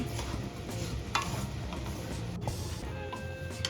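Sugar melting in a pan while being stirred for mango laddu, soft sizzling with scraping spoon strokes and light ticking, close and quiet, with no talking.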